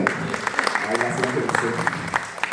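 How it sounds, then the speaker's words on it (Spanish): Audience applause for an honoree at a sports law conference, scattered individual claps of moderate loudness over a murmur of voices and talk. "Un aplauso para Julián"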